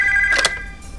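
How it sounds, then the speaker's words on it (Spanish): A telephone rings indoors at night: a short steady electronic tone, then a louder burst that fades to a faint hum. "Estábamos preparándonos para acostarnos cuando sonó el teléfono"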